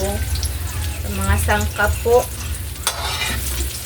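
Eggplant omelette (tortang talong) frying in a pan, with a soft sizzle and some stirring underneath. Someone talks over it for most of the clip.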